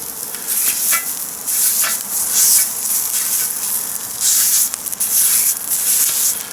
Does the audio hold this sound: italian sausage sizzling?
yes